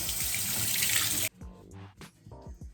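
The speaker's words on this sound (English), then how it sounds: "And I'm gonna rinse my face now." A bathroom tap runs loud and steady while a face is rinsed, then shuts off abruptly, leaving splashing and dripping water sounds.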